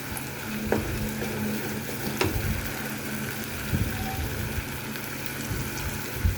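Roast masala being sautéed with fried onions in a pan for a chicken roast, giving a steady close sizzle with a few faint scraping stirs and no talk.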